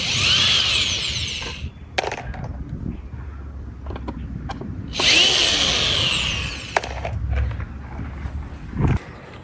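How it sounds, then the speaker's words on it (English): A power drill backs screws out of a wooden fence post outdoors, with whining bursts of the motor separated by pauses, creaks and clicks of the wood and bit, close and fairly loud. "I'm just unscrewing the screws from the fence post in preparation for setting it"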